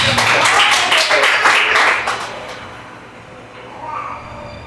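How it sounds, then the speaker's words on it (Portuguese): Congregation in a Pentecostal church clapping hands to welcome a member giving testimony, a loud burst of clapping that fades after about two seconds, with voices continuing quietly underneath. "Receba ela com as palmas para Jesus."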